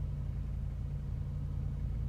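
A car engine idles with a low, steady rumble and its RPMs rise slightly while the O2 sensors warm up, heard faint and close with no talk.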